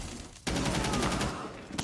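Burst of rapid gunfire from a video game shooter, a dense loud volley lasting over a second after a brief lull, with a final shot near the end.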